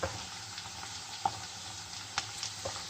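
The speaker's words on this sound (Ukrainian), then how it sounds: "Додаємо морку і теж її трошки пасируємо, не піджарюємо, а пасируємо" Carrot sautéing gently in rendered fat alongside fried cabbage and ribs makes a quiet, steady sizzle, punctuated by a few soft utensil taps and scrapes.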